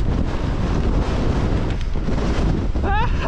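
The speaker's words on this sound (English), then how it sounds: "Oh, that wind." Strong wind roars steadily across the microphone during an extreme enduro race, a constant loud buffeting rumble with a brief whine near the end.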